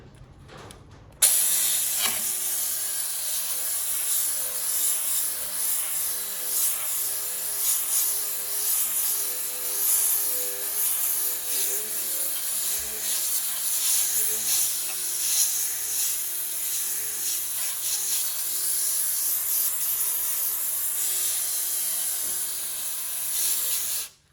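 A Blaze Rapid Strip pad on a power tool strips paint from a metal panel, making a steady, close, high-pitched whirring hiss with gritty rasping textures that lasts about twenty seconds before stopping.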